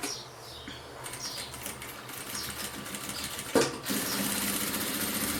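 Sewing machine stitching a pencil case, a close rapid mechanical whirring that pauses briefly, then resumes with a sharp clack and runs on as the stitch is reversed back and forth.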